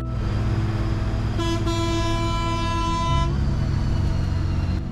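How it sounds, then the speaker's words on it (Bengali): A bus horn honks in one long, loud, steady blast over idling engine noise and street bustle at a bus stand in Bandarban, ending abruptly. "এইদিকে বাস হর্ন দিচ্ছে"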